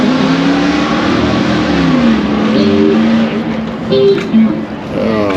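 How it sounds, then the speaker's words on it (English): Freshly rebuilt car engine running at a Christmas charity car meet outside a diner: a loud, close engine drone with rising and falling revs, and people talking nearby. "Wainscot just rebuilt the motor. It's running really well"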